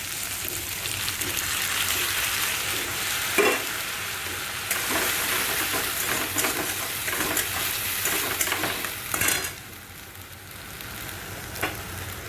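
Tomatoes hit a hot pan of oil for an egg masala, setting off a steady loud sizzle with scraping stirs and a few sharper spatters throughout, calming slightly toward the end.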